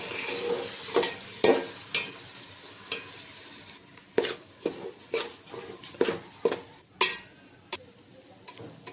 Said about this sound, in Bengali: চালটা একটু ভেজে নেবো